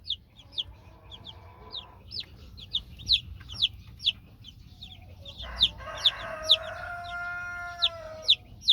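Hens and chicks of a cross-bred heritage rooster and Silkie line cluck steadily nearby, with repeated sharp high peeps from the chicks over softer, lower hen calls and a brief trilling stretch.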